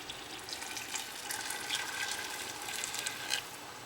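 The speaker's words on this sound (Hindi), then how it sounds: "अब मैं ये बॉइल वाटर का प्रयोग कर रहा हूँ।" Boiled water poured into a pot of mutton korma, a continuous splashing, hissing pour that holds steady at moderate loudness for several seconds without any talk.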